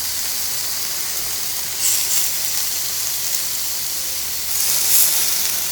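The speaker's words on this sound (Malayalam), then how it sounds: "ചിക്കൻ ഞാൻ ഗ്രില്ല് ചെയ്തെടുക്കുക ചെയ്യുന്നത്" Marinated chicken sizzles on a grill for shawarma, a steady close hiss of fat and steam that swells briefly twice, with no voices over it.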